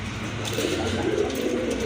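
Soft, low coos from a female and male pigeon pair repeat close by over a steady background murmur.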